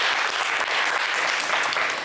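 Studio audience applause on a French TV game show, a dense, continuous wash of clapping from a crowd, loud and sustained throughout with no voices over it.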